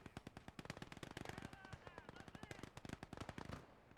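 Machine gun suppression fire in the World War II game Gates of Hell, loud rapid bursts of automatic shots that continue for several seconds and then drop off at the end, with no talk.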